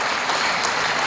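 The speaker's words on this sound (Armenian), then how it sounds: "Եվս մեկ անգամ ծափահարենք Գագիկ Հակոբյանին" An audience applauds a duduk player at a 65th-birthday celebration concert for an ashugh, a dense, loud, continuous burst of clapping.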